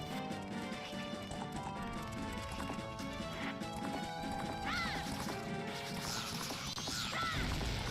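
Steady clip-clop of a horse galloping in the video game The Legend of Zelda: Majora's Mask, a continuous rhythmic hoof beat under game music and effects, with no talking.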